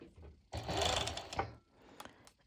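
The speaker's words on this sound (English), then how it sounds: "Then I go ahead and I'm going to my serger" Serger overlock sewing machine stitching main fabric for pole dance shorts, a loud rapid whirring burst of about a second, then quieter intermittent clicks and short runs.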